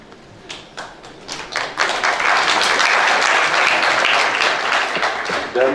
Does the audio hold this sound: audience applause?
yes